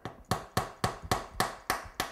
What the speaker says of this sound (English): and then I'm going to hammer it through.